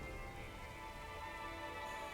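Steady rain falls in the Darkside Detective video game, a dense, even hiss of drops on surfaces that holds at a constant, moderate level throughout with no voices.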